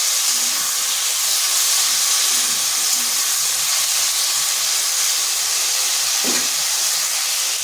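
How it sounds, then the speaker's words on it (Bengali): Tomato-ginger paste sizzling as it is sautéed in a pan, a steady loud hiss that runs unbroken throughout, with faint clinks of a spatula underneath. "টমেটো আর আদার যে পেস্টটা বানিয়েছিলাম সেটা। এটা একটু ভালো করে কষিয়ে নিতে হবে"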